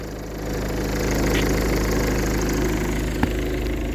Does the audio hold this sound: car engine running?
yes